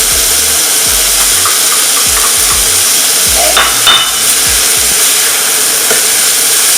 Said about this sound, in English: Make sure you're getting the sizzle.